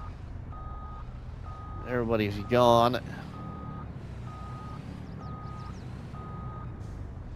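A truck in Farming Simulator 22 gives steady, evenly spaced reversing beeps while backing in to a loading dock, under a low engine rumble, with someone speaking briefly partway through.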